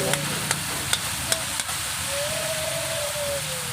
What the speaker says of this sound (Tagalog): Haluan natin ng lugbati